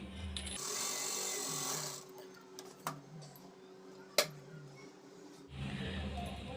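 A domestic sewing machine stitches a lining blouse piece in bursts, whirring steadily at the start and again at the end, with quiet pauses between and a couple of sharp clicks in the middle.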